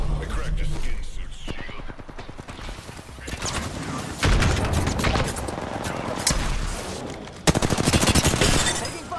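Game gunfire in an Apex Legends battle-royale match, with bursts and fusillades of automatic fire and sharp impacts that swell loudly at several points, overlaid by ongoing talk.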